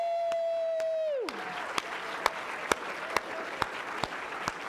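An audience at a university Three Minute Thesis championship bursts into applause after a sustained tone cuts off, steady broadband clapping with a few sharp louder claps standing out at regular moments, moderately near.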